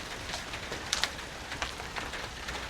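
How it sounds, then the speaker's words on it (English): Heavy rain falls outdoors, producing a steady broadband hiss with scattered sharper drop impacts ticking through it. There is no talking. "All right, the rain's getting pretty hard."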